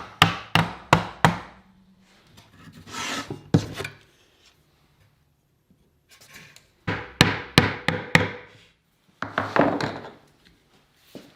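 A Blum Tandem drawer slide pushed against the back of a wooden drawer takes a series of sharp hammer-like taps in quick bursts, with scraping and rubbing between groups and quiet gaps.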